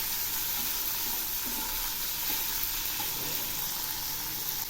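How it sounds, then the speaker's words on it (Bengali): Fish pieces fry in hot oil in a pan while being stirred, giving a loud, continuous broadband sizzle with faint scraping underneath and no voices. "এখন আমি এর মধ্যে মাছগুলো দিয়ে দিচ্ছি। এগুলি একটু নেড়ে দিচ্ছি।"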